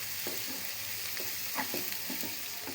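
Onions fry to a light brown in a pan for a desi tinda curry, a continuous close sizzle with small pops and soft stirring scrapes, no voices.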